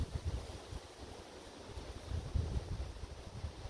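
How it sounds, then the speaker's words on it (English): Strong wind buffets the microphone outdoors on a hike at Jones Creek Park near Mallory Town Landing, Ontario, a steady low rumble with gusty surges and no talking. "And it's very windy, so we don't want our lunch to blow away."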